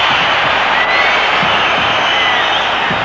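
A partisan football crowd in a Vienna stadium keeps up a steady, loud roar of cheering and chanting that fills the whole stretch without a break.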